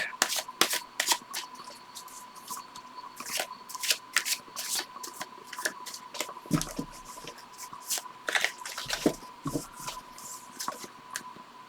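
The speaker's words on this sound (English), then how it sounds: "It shuffles so wonderfully." Tarot cards are shuffled in quick, crisp riffling bursts at close range, repeating over and over, with a faint steady hum underneath.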